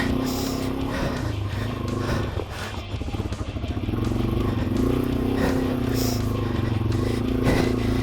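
A Yamaha TW200 motorcycle with aired-down tires rides off-road over rocks, its engine droning steadily up close with scraping and knocks from the terrain throughout, under talk from the rider.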